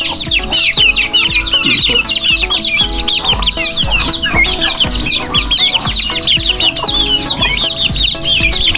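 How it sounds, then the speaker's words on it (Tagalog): A pen of turkey poults mixed with two chickens, a dense continuous chorus of high peeping chirps and clucks, close and loud, with a brief spoken word. "Ito naman po mga pabo, mga sisi po ng pabo ito. Saka nakahalong dalawang manok"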